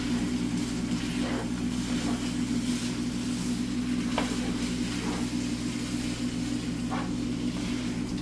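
Shrimp and rice stir-frying in a hot pan with cran mayo sauce being spread through, giving a steady close sizzle with a low hum beneath and a few soft stirring scrapes.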